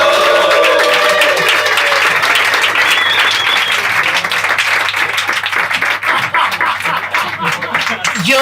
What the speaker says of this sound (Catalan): Un aplaudiment per l'Antonio.